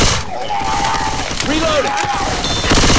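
Dense, sustained gunfire in Left 4 Dead 2 in a haunted forest level: rapid overlapping shots and mechanical clatter run loud and continuous through the whole stretch, with raised voices mixed in.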